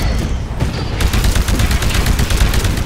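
Dense, continuous gunfire from the Titanfall video game, with rapid overlapping shots keeping up a loud, steady barrage throughout and no talk over it.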